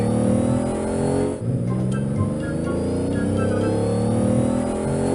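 Car with a broken wheel driving, a loud continuous engine drone with a brief dip partway through, steady and close.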